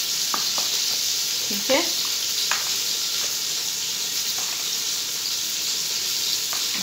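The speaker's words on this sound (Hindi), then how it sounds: "वहाँ हमारे प्याज फ्राई हो रहे हैं" Onions for biryani frying in a pan, a steady bright sizzle with occasional stirring scrapes and clinks, while someone speaks briefly.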